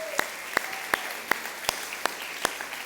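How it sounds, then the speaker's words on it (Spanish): Church congregation giving the volunteers a round of applause at a Sunday service, heard as a string of sharp, evenly spaced single claps about every 0.4 seconds over a quiet room rather than a dense ovation. "¿Qué tal si le damos un fuerte aplauso a cada uno de esos colaboradores?"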